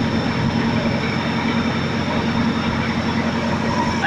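A Lincoln SA-200 welder engine held at high idle, a steady, loud mechanical drone with an even low throb and no variation, close by and unaccompanied by speech.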